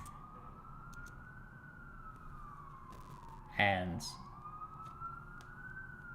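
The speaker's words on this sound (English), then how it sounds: "So, sorry for the sirens." A wailing emergency siren rises and falls on a New York City street, steady and moderately distant beneath the room sound, with a brief louder burst of noise and a short spoken word partway through.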